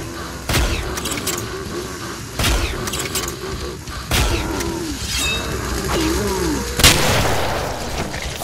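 Double-barrelled shotgun blasts in the Killing Floor zombie shooter, several heavy booming shots spaced a couple of seconds apart over a noisy combat background, with a voice speaking between them.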